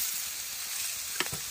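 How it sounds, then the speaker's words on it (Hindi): Green beans fry in a pan with a steady, soft sizzle, broken near the end by a couple of quick stirring knocks. No one speaks. "जो फ्राई सेम हम कर रहे हैं उसमें थोड़ा सा नमक डालेंगे"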